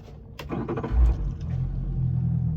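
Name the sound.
small fishing boat engine starting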